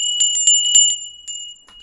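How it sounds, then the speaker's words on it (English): A tinkly bell alert chimes during a live stream, ringing in a quick bright series of about six strikes, then a softer ring and a faint last tinkle, alone without talk. "Tinkly bells, Michael."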